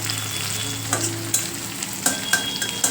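Crushed garlic sizzles in hot oil for a dill (shepu) bhaji, a close steady frying hiss broken by several sharp clinks and scrapes of stirring.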